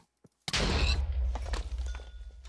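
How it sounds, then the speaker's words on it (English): An explosion in the Minecraft GT New Horizons game, one sudden loud blast followed by a rumbling, crackling tail that fades over about two seconds, heard alone. "Something blew up."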